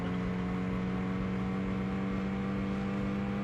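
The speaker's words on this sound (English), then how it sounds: "Good engine sounds." A steady, humming car engine drone from the Amiga game Test Drive II: The Duel – California Challenge, with a strong low tone, held at a constant pitch, fairly quiet and continuous.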